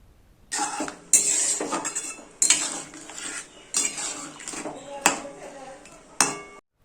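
A spoon stirs rohu fish into thin curry in a metal pot, with a series of sharp, close clanks and scrapes against the pot at irregular intervals, about eight distinct strikes over a soft simmering background.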